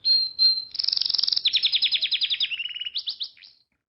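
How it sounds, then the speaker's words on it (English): A small bird in a pet shop gives a short burst of close, clear chirps and rapid trills, starting with two quick notes, then a fast rattling series, ending in a few separate chirps before silence. "I like this bird."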